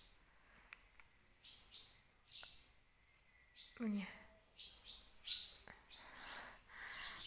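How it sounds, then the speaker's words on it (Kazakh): Swallows and their chicks perched in a nest, faint high chirps and twitters coming in short bursts, with soft nearby speech mixed in. "Мына жақта бұғаннан қарлығаштар отырған. Балапандары бар вот."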